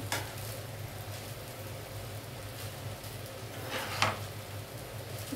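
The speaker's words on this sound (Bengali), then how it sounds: "আমি মিক্স করছি, সবজির সঙ্গে ভাতটা মিলিয়ে দিচ্ছি" Rice mixed with vegetables is stirred in a pan, giving a soft, continuous scraping sizzle with a few louder scrapes, the sharpest near the end. It sounds fairly quiet and close, with no speech.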